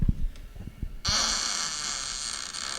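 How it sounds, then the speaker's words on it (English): A short, raspy real fart sounds in a few low bursts, then a steady hiss follows for the rest of the moment. "It's a real fart."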